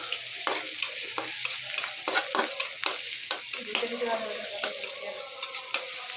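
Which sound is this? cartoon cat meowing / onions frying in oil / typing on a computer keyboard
onions frying in oil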